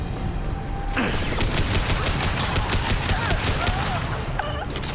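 Freeze-ammo gunfire from Mass Effect 2 cracks out in rapid, loud bursts after a brief quiet start, dense and continuous for several seconds.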